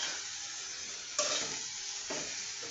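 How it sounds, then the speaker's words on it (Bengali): Boiled broccoli and flat beans frying in a pan give a steady, close sizzle, with two louder stirring bursts partway through and no talking. "এখন শুধু আমি ভেজে নিব।"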